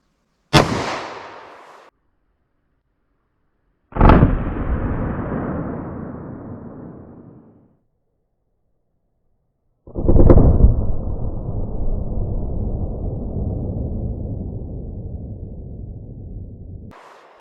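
A 10mm Buffalo Bore round fired into ballistic gel blocks, with three loud, separate gunshots each followed by a long rumbling echo that fades, the last blast the heaviest, with no talk.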